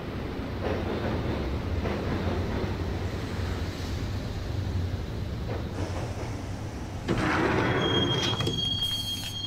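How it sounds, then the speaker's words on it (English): Subway train riding in the Max Payne video game, heading for Roscoe Street Station: a steady, loud rumble of wheels on rails throughout, with a sharp wheel squeal rising near the end. "the train doors had already shut behind me, and I was in for the ride"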